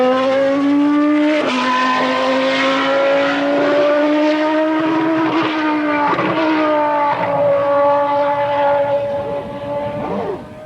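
The Williams FW14 Formula One car with Nigel Mansell at the wheel on a wet Silverstone track, engine screaming loud and near, pitch rising and falling through repeated upshifts and downshifts across the run.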